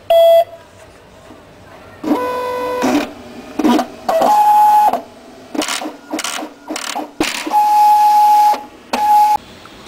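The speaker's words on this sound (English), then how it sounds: "These are the settings which have been produced in Braille by the Braille printer" A Braille printer embossing a page of settings gives loud bursts of mechanical clatter and buzzing, broken by short pauses and several sharp electronic beeps.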